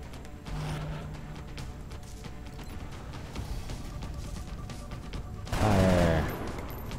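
Soldiers trading gunfire in XCOM Long War, several bursts of shots over a steady battle backdrop, with a louder crackling volley near the end, fairly quiet overall.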